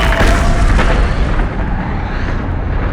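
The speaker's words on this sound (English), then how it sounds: "causing an almighty explosion that resounded across the cosmos" A huge, loud, rumbling explosion that rolls across the cosmos, with dense broadband roar and low booms sustained for three seconds before easing slightly.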